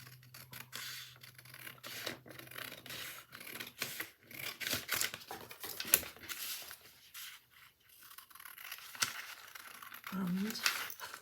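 Scissors cut a paper pattern for a jacket, giving a series of short crisp snips and rustling paper handling at close range, with a quiet voice now and then.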